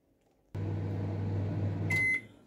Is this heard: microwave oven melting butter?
yes